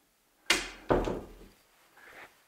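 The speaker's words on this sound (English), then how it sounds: "Stepping through another door" Someone stepping through a door indoors: two close thumps of the door and footfalls in quick succession, followed by a fainter, softer knock, moderately quiet with no talk.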